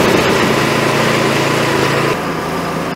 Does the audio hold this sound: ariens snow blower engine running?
yes